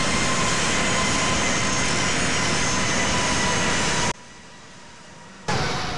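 A Boeing 767 heavy jet airliner taking off in the flight simulator game Infinite Flight, a loud, steady roar of engines close by that abruptly drops, then swells back.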